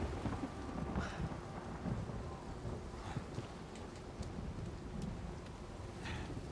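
Steady heavy rain pours throughout with low rolling thunder rumbling underneath, a dense, continuous storm wash from Uncharted 4 with faint crackles near the start and end, no voices.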